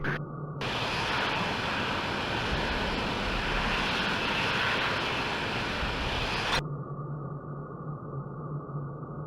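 An F-16 jet engine roars on landing approach in the Falcon 4 flight game, a broad steady rumble that swells loud for several seconds, then drops back to a quieter cockpit hum.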